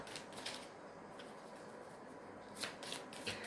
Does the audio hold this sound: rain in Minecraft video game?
no